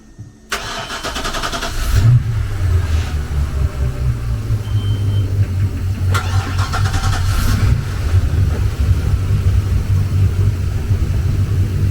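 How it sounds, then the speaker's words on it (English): Boat motors start up, catching with a burst and settling into a steady, loud rumbling idle that runs continuously, with slight swells as the engines circulate during an oil change and storage prep. "I'm going to fire the motors, let it circulate for a few minutes"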